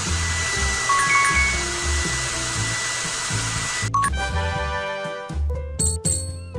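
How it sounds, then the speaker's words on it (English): A video game hair dryer whooshes steadily with game-like chimes and tinkling jingles, then cuts off into a burst of bright sparkly sound effects. "I will use a hair dryer."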